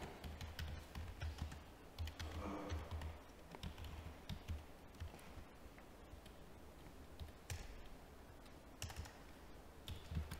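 Code being typed on a computer keyboard for a CodeIgniter admin login, a soft, fairly continuous run of key taps at close range with a few louder strokes.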